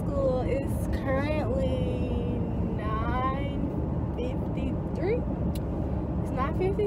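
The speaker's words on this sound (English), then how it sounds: "I'm in the car and I'm on my way to school" Steady engine and road rumble from inside a car driving to school in traffic, a constant low drone throughout with a person talking over it.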